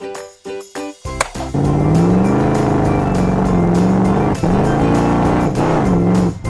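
A toy truck plays an electronic sound effect after its button is pressed: a few short clicks, then a loud sustained revving engine and racing-car sound with squealing pitch sweeps lasting several seconds.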